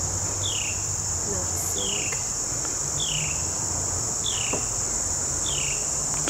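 Insects chirping outdoors in Livonia, Michigan, in a regular series of short, evenly spaced chirps about once a second over a constant high-pitched whine and a low background rumble.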